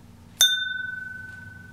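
One crisp strike on a piece of 24% lead crystal produces a bright ping that settles into a pure, sustained ring, lingering for more than a second over faint background hum.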